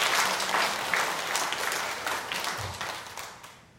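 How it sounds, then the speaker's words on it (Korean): A church congregation at a Sunday service claps in encouragement for the choir, a soft, fairly distant round of applause that holds steady and then fades out. "격려의 박수 한번"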